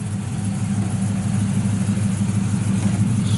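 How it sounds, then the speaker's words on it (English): A 1973 Chevrolet Camaro Z28 with a ZZ4 350 V8, aluminum heads, headers and dual exhaust, idling with a deep, steady low rumble, close and loud with no talking. "Strong running motor."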